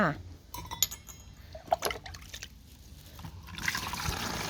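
Rice-washing water scooped into a bottle, with splashing pours, trickles and a clink of the scoop against the bottle, close and moderately loud, while someone talks over it in Thai.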